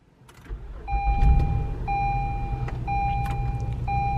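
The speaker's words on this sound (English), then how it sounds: "So the next thing that I have them do is start the car" A car engine cranks and catches, then idles with a low rumble while a warning chime beeps at a steady one-second pace.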